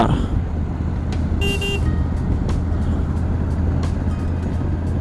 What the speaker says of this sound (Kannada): ಗಾಡಿನ ಮೇಲೆ ಬಂದ್ವಿ ಇವಾಗ